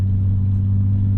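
A 2004 BMW E46 330xi with a muffler delete gives off a steady, loud, low engine drone and rumble from inside the cabin, holding an even tone with no talking.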